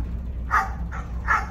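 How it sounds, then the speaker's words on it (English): Dogs bark three times in quick succession, sharp mid-pitched woofs over a low steady background hum, fairly close and clear with no talking. "It's dogs barking."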